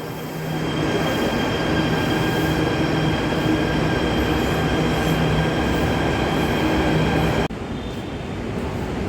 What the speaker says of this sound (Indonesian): The train bound for Lebak Bulus at platform 1 is departing.